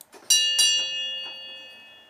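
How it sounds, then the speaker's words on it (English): A homemade Wi-Fi-controlled donger strikes a metal bell twice in quick succession, leaving a bright, clear ring that decays slowly, with a faint mechanical tick before the strikes and another soft one later. "now I have a nice way to ring my bell"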